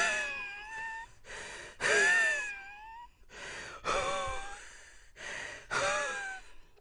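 A woman breathes heavily and unevenly, with a run of loud, strained, voiced gasps and sighs separated by brief pauses, close to the listener.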